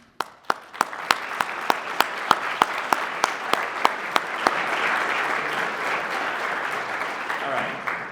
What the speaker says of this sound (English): A round of applause for the first recipient of this award for Coordinator of the Year,